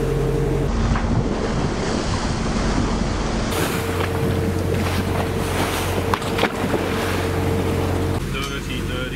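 Rough, churning sea waves wash loudly and continuously around a sailing boat, with wind noise and a low engine-like hum underneath throughout.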